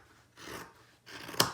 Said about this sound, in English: So we're going to go ahead and cut on our cut line.